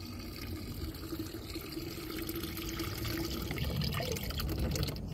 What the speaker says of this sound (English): So what I'm gonna do now is put some of our rainwater in there.